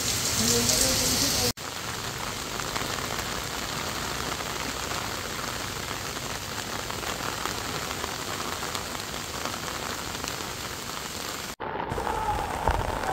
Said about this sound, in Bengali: দেখি বৃষ্টি একটু থামুক